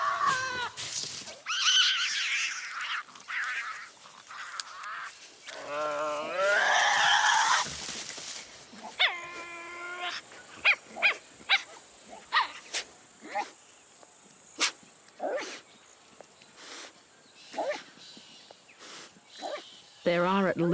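Tasmanian devils feeding make a chaotic mix of growls, screeches, harsh wails and sharp barking arfs, close and loud in irregular bursts, mixed with a narrator's voice.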